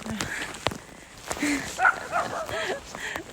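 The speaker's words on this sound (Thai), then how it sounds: "มีหมาเห่า" A dog barks a few times at a distance outdoors on a sunny, frosty day at minus seven degrees in Sweden, with short sharp calls scattered through the clip amid light background noise and a voice talking.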